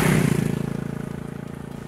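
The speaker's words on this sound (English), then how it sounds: "This is the smaller 350cc engine" Royal Enfield Classic 350 with the 350cc single-cylinder engine running at steady idle, a loud, close, even thumping beat that settles after a brief initial rise, with no voices.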